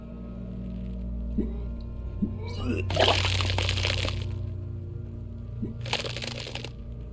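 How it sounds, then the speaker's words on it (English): Wet vomiting sound effect from the video game Disco Elysium: two splattering, gushing bursts, the second shorter, over a low steady ambient hum. "Your body curls and pushes it out, burst by burst, until a pool of vomit lies under your feet"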